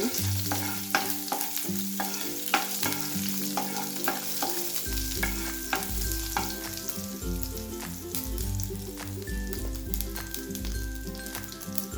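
Green chilies and cumin seeds sauté in a hot pan with a steady, bright sizzle and occasional stirring, heard beneath continuous background music.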